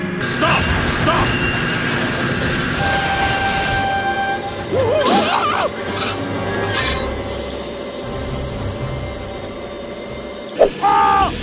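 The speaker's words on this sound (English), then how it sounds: "Oh my god, train!" A train rumbles past loudly and steadily at close range, with a metallic wheel squeal rising mid-way and a brief horn-like tone near the end, while excited voices shout over it.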